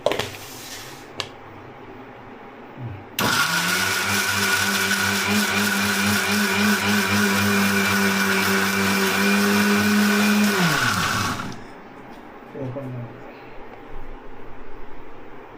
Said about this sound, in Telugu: మిక్సీ జార్ తీసుకొని మిక్సీలోకి కట్ చేసుకున్న చిన్నగా ఉన్నవన్నీ పీసెస్ అన్నీ వేసేసుకోవాలి